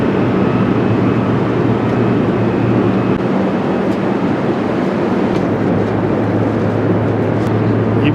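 Steady, loud airplane cabin drone during a flight to Paris, a continuous broadband engine and air roar with a low hum, unbroken and close for the whole stretch, with no talking.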